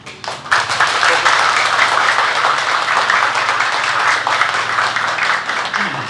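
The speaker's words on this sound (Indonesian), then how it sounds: "Teman-teman, Nusantara merindukan Tepuk tangan antum semuanya." Sustained audience applause at a youth motivation event in a Bandung mosque hall, a dense, steady wash of many hands that starts after a brief moment and holds loud and even for about six seconds, with voices mixed in.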